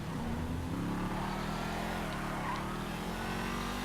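A virtual Audi RS7 Sportback in GTA 5 drones steadily with a continuous, loud engine hum and slight pitch shifts, no distinct rev peaks, across the whole stretch.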